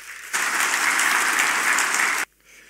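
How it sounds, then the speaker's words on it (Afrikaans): A church congregation at a confirmation service bursts into loud, dense applause that lasts about two seconds and then stops abruptly, leaving near silence. "Kom ons sê ek sommer net vir hulle ook 'n lekker hande klap."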